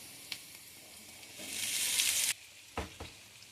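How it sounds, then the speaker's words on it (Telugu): Ivy gourd pieces go into hot oil with onion and curry leaves. A few quiet pan sounds build into a loud hissing sizzle that stops abruptly, followed by a couple of sharp clanks and softer frying. "ఇప్పుడు కట్ చేసి పెట్టుకున్న దొండకాయ ముక్కల్ని వేసుకోవాలి"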